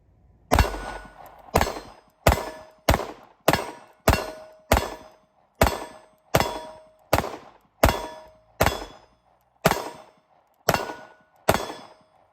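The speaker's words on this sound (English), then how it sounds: "I'm gonna be doing my first shots, the Shadow 2 Compact" A CZ Shadow 2 Compact pistol fires about fourteen sharp, loud shots at a steady, unhurried pace, each crack ringing out with a short metallic tail before the next.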